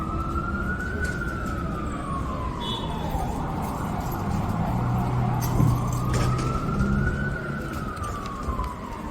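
East Village, New York City traffic hums steadily while a siren wails up and down in the distance, rising and falling twice over the continuous street noise.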